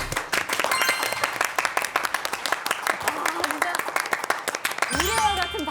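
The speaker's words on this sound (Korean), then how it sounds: "우레와 같은 박수가 쏟아집니다." Studio audience at a Korean cultural heritage quiz show breaks into loud, sustained applause after a student's correct answer, dense clapping under a host's voice, with a musical sting rising near the end.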